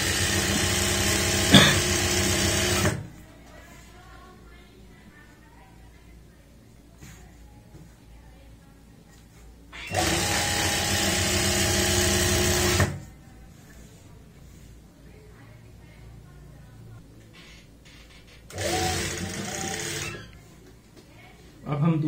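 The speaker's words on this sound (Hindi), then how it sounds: "यहाँ पे दूसरे पोंचे पे सिलाई लगेगी" A sewing machine stitches a palazzo seam in three loud, steady runs of about three seconds each, separated by quiet pauses with faint handling noise.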